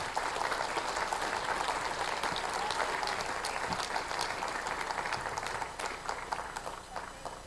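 A conference audience at a gun rights policy event gives a steady, sustained round of applause, an even wash of many hands clapping throughout, with no voices standing out.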